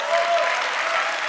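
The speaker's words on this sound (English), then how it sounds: "Applause if you'd like to see AOC run for president." Audience applause at a live political event, a steady, dense wash of clapping from a crowd that holds at an even level for just over a second with no talk over it.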